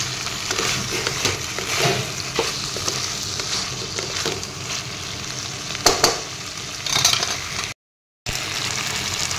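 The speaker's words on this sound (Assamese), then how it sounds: "এয়া চামুচ দি দিছোঁ আৰু অলপ দি দিছোঁ এইখিনিও মই এনেদৰে তলপৰ কৰি লৰাই দিম" Spiced chicken curry with pointed gourd sizzles in a pan while being stirred, giving a steady close frying hiss with scraping stir strokes and a few louder clinks, briefly cut by a short silent gap.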